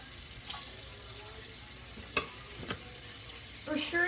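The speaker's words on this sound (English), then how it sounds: "your pan nice and hot. Then, get yourself some ham. Drop in the ham" Ham fries in a hot pan with a quiet, steady sizzle, broken by a couple of sharp utensil knocks and some clatter near the end, heard alone without talk.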